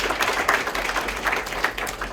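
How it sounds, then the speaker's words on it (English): Audience applause at a hotel fund launch event, a crowd clapping steadily and moderately loud throughout, dense and continuous with scattered individual claps standing out. "I think that deserves a round of applause"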